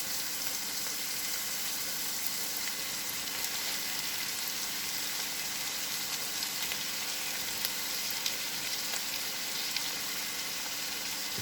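Wide rice noodles sizzling in a hot pan with onions and garlic for shrimp chow fun, a steady close crackling fry throughout with no talk.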